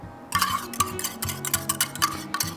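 Spoon scraping and tapping mayo into a bowl while making plant-based ranch dressing, a series of close clinks and scrapes in an irregular rhythm, no talking.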